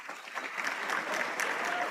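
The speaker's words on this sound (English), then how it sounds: "Darren likes to hear the applause when he's walking" Steady audience applause fills a summit hall as a panelist walks on stage, a continuous wash of many hands clapping at even loudness.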